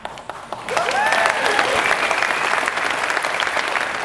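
Audience applause at a real estate keynote, a dense, steady wash of many hands clapping that rises after a few brief claps and holds at full strength.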